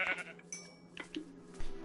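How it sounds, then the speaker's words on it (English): Sheep in the Minecraft video game give a few short bleats, faint and scattered over a quiet background. "I need as many sheep as I can get."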